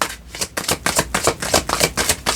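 A tarot card deck is shuffled by hand in quick repeated riffling bursts, about eight sharp crisp rustles in a steady rhythm, close and alone.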